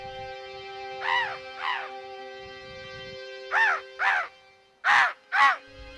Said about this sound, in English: a flock of birds answers him as they gracefully swoop by through the air